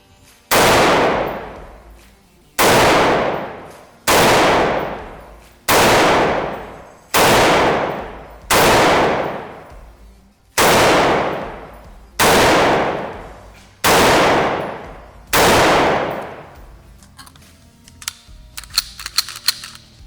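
IWI Carmel 5.56 semi-automatic rifle fired outdoors at a range, ten sharp, loud shots spaced about every 1.5 seconds, each with a short ringing decay, and no voice over them.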